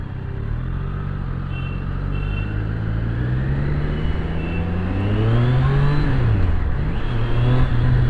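A Triumph Street Triple 765RS motorcycle accelerating on a street ride, its engine note climbing steadily through the revs and then dropping briefly at a gear shift before it rises again, close and loud over steady wind noise.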